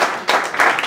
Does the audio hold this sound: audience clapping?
yes